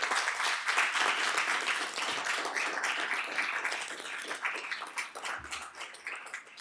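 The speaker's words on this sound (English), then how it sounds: "Please give her a round of applause." An audience at a school board meeting claps in a dense, steady round of applause that gradually thins and fades toward the end.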